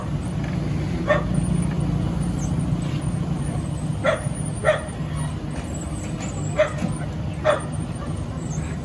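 A dog in Saigon gives short, sharp barks and yips at irregular intervals, somewhat distant over a steady background hum with traffic and voices.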